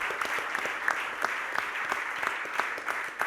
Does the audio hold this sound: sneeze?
no